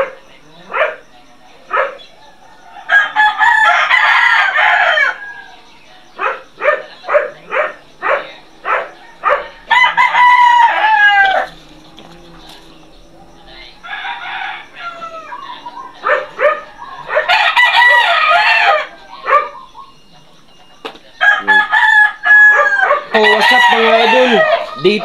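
A chicken under treatment crows loudly and repeatedly in long calls, with bursts of clucking between them, close by, while a dog barks at times in the background.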